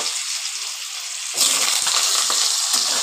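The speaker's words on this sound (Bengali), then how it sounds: "আলুটাকে লাল লাল করে ভেজে নেব" Thin, long potato slices drop into hot oil and fry, a steady hiss that jumps louder and fuller about halfway through, then keeps sizzling close up with light crackles.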